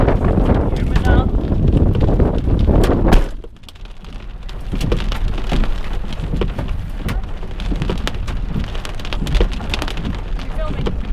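Storm with hail and heavy rain pounding close by, a loud dense clatter that drops briefly and then resumes steadily, with people talking over it.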